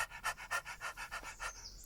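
A person imitates a dog panting, with about nine quick rhythmic breathy huffs in a steady beat, close and fairly quiet, with no talking.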